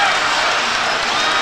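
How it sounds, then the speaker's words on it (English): Fans roar as they storm the court after a close high school basketball game, a dense, loud, continuous crowd din of cheering and shouting voices. "the crowd storms the court"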